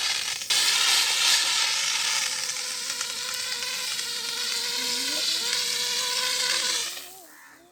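A fire extinguisher cylinder sprays a steady, loud hiss under pressure onto a fire during a firefighting demonstration, continuing for several seconds with a sharp onset and fading out at the end.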